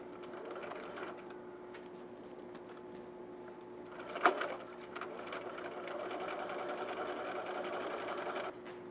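A sewing machine stitches lining fabric to zipper tape for a handbag zipper clutch, running with a steady close mechanical whir and a faint tonal hum. A sharp clack comes partway through, then the machine keeps stitching and stops near the end.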